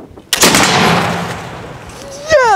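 A Lyman Great Plains black-powder rifle fires one sharp, loud shot outdoors among trees, followed by a long decaying rumble; a short exclamation comes at the very end.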